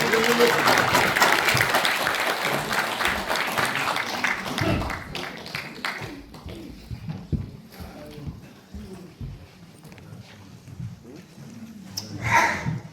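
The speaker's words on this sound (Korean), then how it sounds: "큰 박수로 맞아주시기 바랍니다." An audience in a large auditorium applauds loudly to welcome a guest speaker, a dense wash of clapping that fades after about five seconds as a voice begins speaking.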